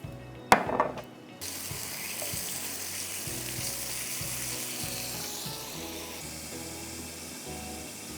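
Seekh kebabs grill with a little pomace olive oil, opening with a burst of clatter and a sharp crackle, then settling into a quiet, steady sizzle without talk.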